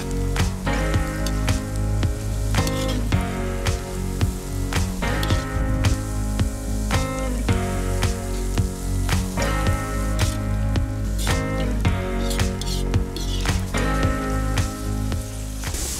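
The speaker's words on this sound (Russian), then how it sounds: "Обжарим тоже 2-3 минуты." Carrots and hot pepper fry in a pan with a steady, close, crackling sizzle that runs unbroken throughout, with no talking.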